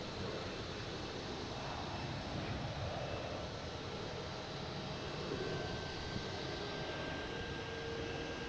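Jet airplane engine roar at Boston Logan airport, a steady broadband rumble holding at constant loudness throughout with no voices.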